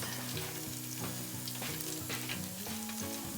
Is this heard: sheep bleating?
no